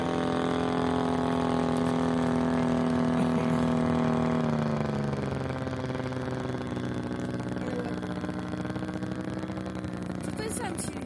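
An aircraft engine on a Wilga running with a steady tonal hum that drops in pitch partway through as the revs come down, fairly loud and continuous.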